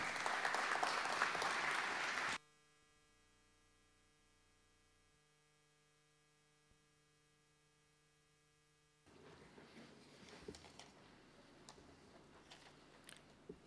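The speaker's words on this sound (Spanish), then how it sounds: "Fuerte el aplauso para él." Loud audience applause greets the mayor of Miraflores at an award ceremony for the Fotolectura photo contest, lasting about two seconds before cutting off to a steady electrical hum, with a murmuring room returning later.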